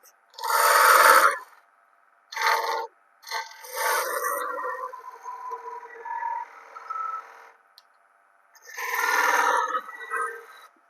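A 1/2-inch spindle gouge cuts into spinning wood in separate bursts, giving a close, bright rasping scrape. Each pass lasts around a second, with one longer, steadier cut in the middle and short pauses of quiet between passes.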